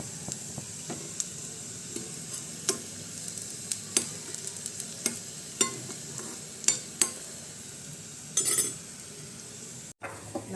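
Fried shallot tempering poured into herbal rice porridge gives a steady close sizzle with stirring, plus scattered clinks of utensils against a pot. There is no talk.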